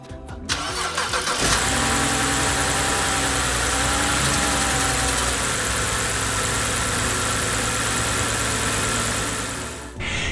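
A BMW E90 engine cranks and starts after a PCV system replacement, then settles into a steady, loud idle that runs nearly the whole stretch without any talk.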